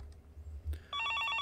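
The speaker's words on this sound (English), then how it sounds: "the telephone in the corner of the room began ringing out loud" A telephone in the corner of a room rings in the Higurashi visual novel, and its bright repeated electronic trill starts abruptly after a faint low hum. The ringing pulses steadily, loud and close.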